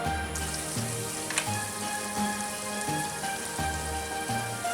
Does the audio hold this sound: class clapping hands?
no